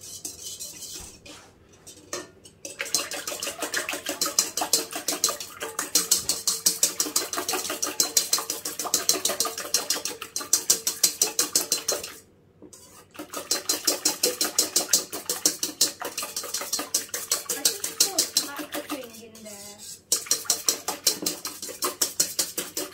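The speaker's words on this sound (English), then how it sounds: "Get a whisk and whisk it together." Whisk scraping and clinking steadily against a bowl while cake batter for a unicorn cake is mixed, a fast rhythmic metallic rattle running close and loud with two short pauses.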